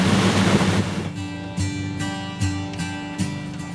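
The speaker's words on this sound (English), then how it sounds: "Right now there's a swell approaching, rain coming vertically" Ocean swell washing against a sailboat at sea during a Pacific crossing, with rain falling vertically; a loud broad wash of water at first, then steadier hiss with periodic surging swells.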